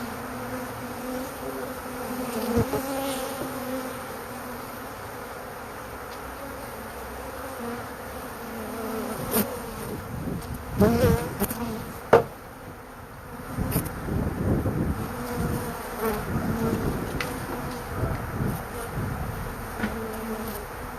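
A swarm of honeybees hums steadily around a box being moved, a dense close buzz with louder bursts and handling knocks partway through.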